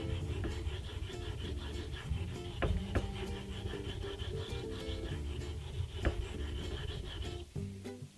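A Felco #2 pruning clipper blade is worked against a sharpening stone while a burr is raised, giving steady rasping strokes with a scratchy, repetitive rhythm, close and moderately loud.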